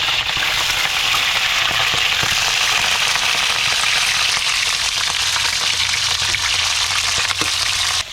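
Chopped bitter gourd (ampalaya) fries in hot oil with a loud, dense, continuous sizzle and crackle that stays close and unbroken throughout.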